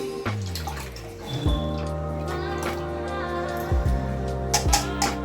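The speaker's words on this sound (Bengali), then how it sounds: "গুড়টাকে একটু ভালো করে ছেঁকে নিচ্ছি" Soaked jaggery water pours through a sieve into a bowl with a steady trickling splash and some resonant tonal ringing, punctuated by a few dull clinks of utensils.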